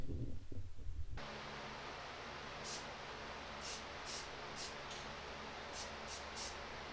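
An aerosol can sprays red paint onto Axial F100 RC car scale-detail parts. After a short thump of handling, a steady close hiss runs throughout, with a few short bursts of brighter spray.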